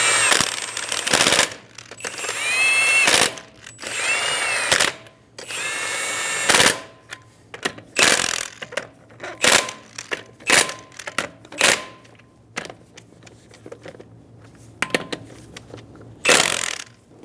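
Repeated bursts of a power impact wrench snugging lug nuts onto a front wheel of a 2007-2011 Toyota Camry, each sharp rattling burst separated by short pauses, loud and close with no talk.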